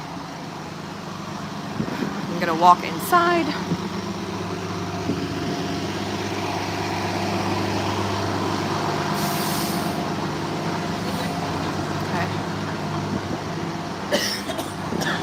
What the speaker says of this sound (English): we have the loud buses, sorry.